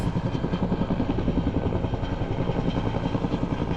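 Steady, loud helicopter rotor thumping with a dense engine roar, continuous throughout with a rapid rhythmic chop.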